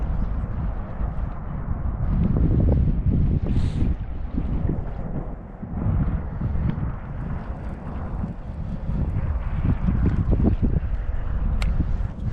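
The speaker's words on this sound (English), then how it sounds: "That wind's blowing hard." Strong wind roars and buffets across the microphone on a boat out on the water during early spring bass fishing in South Jersey, a loud continuous rumble with gusty surges and no break.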